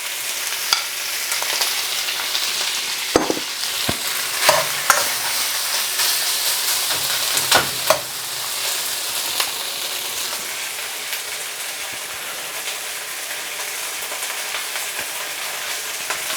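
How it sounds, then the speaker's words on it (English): Beef sears and sizzles in a hot wok with chilies, ginger and garlic, a steady loud frying hiss with occasional sharp crackles and stirring clinks, no talking. "It's important that you let the beef sear before you actually start moving around too much."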